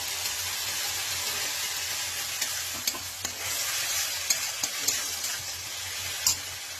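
A spiced watermelon mixture being stirred in a pan, with a soft continuous sizzle and occasional sharp clicks of the spoon against the pan, fairly quiet and close, with no talking.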